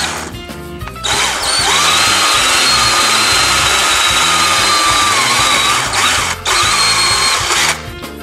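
A power drill drilling into a wooden boat transom for mounting a Mercury 9.9 Pro Kicker outboard whines loudly and steadily, pausing briefly twice before spinning up again, close by with no other sounds.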